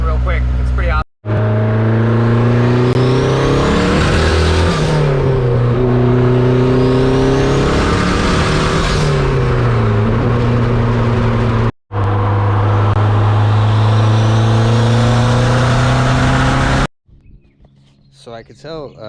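A turbocharged car accelerates hard on boost, its engine note climbing loud and close through several gear pulls with short breaks between shifts, then dropping off at the end.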